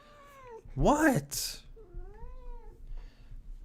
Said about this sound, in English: That's my cat saying happy 4th of July